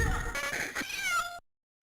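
Cat meowing in an Atari ST video game: a single drawn-out digitized meow with a caterwauling, wavering pitch, loud and close, cutting off abruptly into silence.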